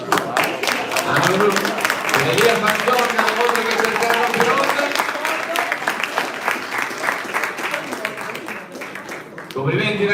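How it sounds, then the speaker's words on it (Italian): A crowd at a regional youth boxing tournament in Padova claps steadily for the boxers after a bout, a sustained patter of applause running beneath an announcer's amplified voice. "E quindi un grande applauso anche per Elia"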